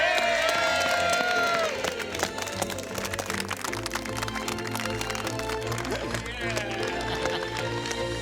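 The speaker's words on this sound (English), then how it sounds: "I think they deserve a huge round of applause." A crowd claps and cheers for two granddads and their sweet-dispensing carousel, the noise dense and continuous under music and talking.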